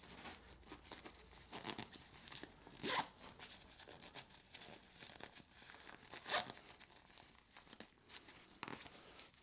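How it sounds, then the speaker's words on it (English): A zipper on a packing cube pocket gets tugged closed in two quick, louder rasps amid quiet rustling and crinkling of packed fabric. "I'm having so much trouble with these zippers"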